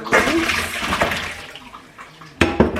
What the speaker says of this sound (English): rinse my apples real quick